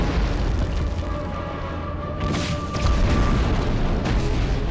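Grenade blast in the World War II shooter Medal of Honor Underground: a deep boom with rumbling aftermath, followed by a second burst near the end amid game noise.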